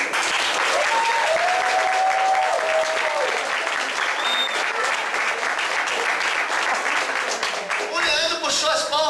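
A church congregation bursts into sustained applause, a dense, loud wall of clapping that holds steady for several seconds, with a voice speaking over it near the start.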